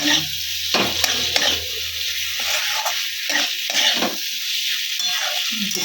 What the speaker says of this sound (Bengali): ভাজা আলুগুলো দিয়ে দেবো ভালো করে এটাকে কষবো মাছের মাথাটাও দিয়ে দেবো এখন